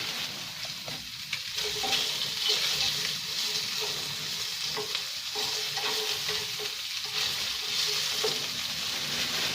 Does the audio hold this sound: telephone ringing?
no